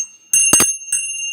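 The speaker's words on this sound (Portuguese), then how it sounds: "como metal que soa, ou como o barulho de um sino" A small metal bell is struck a few times, giving bright ringing tones with one strong strike in the middle and a lighter one after, each leaving a sustained metallic shimmer, close and clear without speech.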